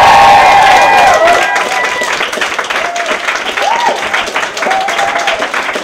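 A live audience cheers and applauds loudly at a comedy show, a dense wash of clapping and shouts that swells at first then settles into steady crowd noise with scattered whoops, while a voice talks over it.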